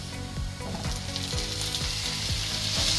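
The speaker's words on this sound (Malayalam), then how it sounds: "ഇനി നമുക്ക് നമ്മുടെ തക്കാളി ചേർത്ത് കൊടുക്കാം" Tomatoes tipped into sizzling onions in a pan for a chicken curry, a steady close frying crackle with a rhythmic series of scraping stir strokes running throughout, no talk.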